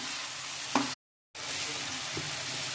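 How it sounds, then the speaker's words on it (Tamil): Crushed garlic sautéing with onion and tomato in a pan, a steady close sizzle with a brief stir clink, broken by a short silent gap. "இந்த பூண்டை நம்ம இதில் போட்டு கொஞ்சம் லைட்டாக வதக்கிடலாம்"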